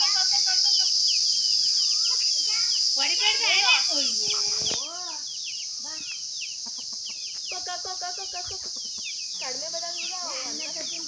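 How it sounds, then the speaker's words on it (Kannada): Hens cluck and chatter in short, repeated calls over a steady high hiss, with a voice speaking at times. "ನಾಟಿ ಕೋಳಿಗಳು ನಮ್ಮ ಮನೇಲಿ ಜಾಸ್ತಿ ಇರೋದು"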